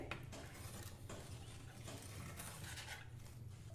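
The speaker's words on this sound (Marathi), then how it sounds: "नीट ढवळून घेऊया" Spoon stirring amla syrup premix in a bowl, soft steady scraping and faint clinks, quiet and close with no talk.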